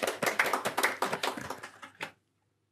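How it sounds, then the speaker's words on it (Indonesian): Audience applause at a studio talk show, a burst of fairly close, crisp individual claps that tapers off and stops, followed by near silence. "Boleh tepuk tangan?"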